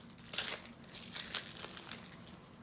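Foil hockey card packs from a 1991 Score set are torn open, giving a few close, crinkly rips and crumples that start sharply and then continue as softer crackling.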